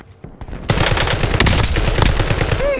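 A paintball gun in Call of Duty Warzone opens up after a brief quiet moment, firing a loud, rapid automatic stream of close shots that continues steadily for about two seconds.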